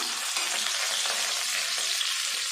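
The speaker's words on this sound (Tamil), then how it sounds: "சேர்த்துட்டு எல்லாத்தையும் நல்லா வதக்கிடலாம்" Shallots, garlic, tomato and green chilli sautéing in a pan give a continuous bright frying sizzle, close and steady, with no voices.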